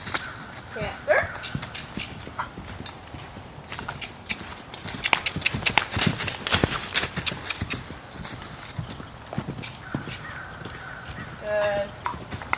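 Horse cantering during a desensitizing training session, hooves clip-clopping in a steady rolling rhythm at moderate distance, with a trainer's voice speaking intermittently over it.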